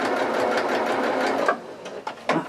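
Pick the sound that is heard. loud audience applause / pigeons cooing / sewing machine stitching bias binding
sewing machine stitching bias binding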